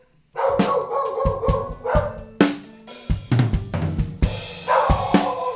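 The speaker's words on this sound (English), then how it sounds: "Oh, my dog's making a return visit." A dog barks repeatedly and loudly close by, sharp irregular barks in quick bursts with brief pauses, alone without talk.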